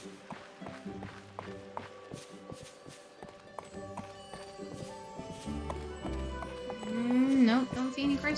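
Horse hooves clip-clopping in the Disney Dreamlight Valley video game, a steady rhythm of light taps under game music, with a whinny near the end.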